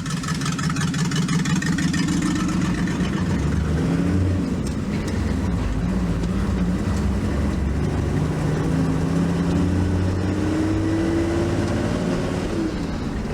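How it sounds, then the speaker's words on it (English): Range Rover exhaust revving loudly and steadily over a continuous engine drone, with rising and falling pitch sweeps as the engine climbs through the revs, close and without talk. "That exhaust sounded pretty good on that. It sounded more like a NASCAR than a Range Rover"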